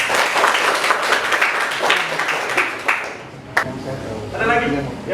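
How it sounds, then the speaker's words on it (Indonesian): Classroom applause: a dense burst of clapping fills the room, with scattered individual claps and voices mixed in, fading as a sharp ping and talk follow near the end. "Kita tepuk tangan dulu."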